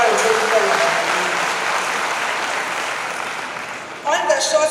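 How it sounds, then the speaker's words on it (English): An audience applauds in one sustained burst of dense clapping that tails off slowly, then a speaker's voice cuts in at the end. "That thing deserves a round of applause."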